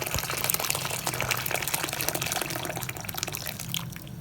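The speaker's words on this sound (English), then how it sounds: "I'm just gonna add some water in" Water is poured into a pot of Jamaican rice and peas partway through cooking, a steady close splashing and trickling that lasts the whole stretch, with no voices over it.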